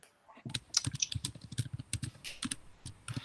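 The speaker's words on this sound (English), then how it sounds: "I can hear you typing?" Rapid, irregular clicking of keys being typed on a computer keyboard, close and fairly quiet, with short bursts and brief pauses.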